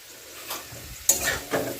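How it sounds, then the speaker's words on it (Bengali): Sliced potatoes fry in a pan on a home stove, giving a steady close sizzle broken by several sharp scrapes and clatters as a utensil stirs them, with no voices. "সকাল সকাল হচ্ছে আলু ভাজা"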